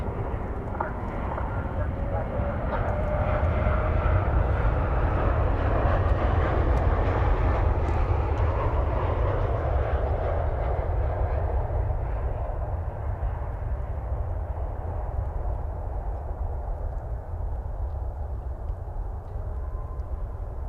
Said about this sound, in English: Flight 2070 from San Antonio, Texas, 737-800, touching down.